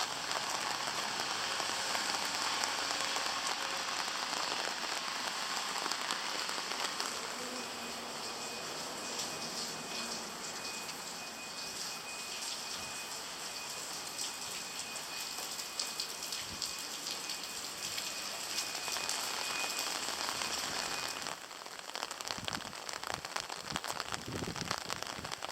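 Steady rain falls on the Shikoku pilgrimage route near Kochi, a continuous close hiss of drops pattering on surfaces that thins briefly and then returns with sharper, heavier splatter near the end.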